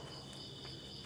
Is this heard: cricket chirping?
yes